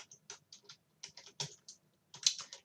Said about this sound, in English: Suppose I type here concatenate,